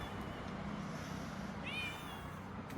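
A pet cat lets out a single short, slightly rising meow partway through, fairly close, over low background noise and faint rumble.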